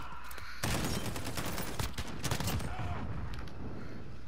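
Sustained volley of gunfire and explosions in Call of Duty: Modern Warfare, starting abruptly after a short quiet moment and staying loud and continuous, then thinning slightly toward the end.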